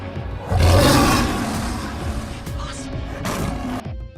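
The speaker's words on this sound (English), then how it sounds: "Number 5. Lion." A lion roars loudly and close, a broad rumbling blast that swells early and then trails off into a long growling tail, heard alone with no talk.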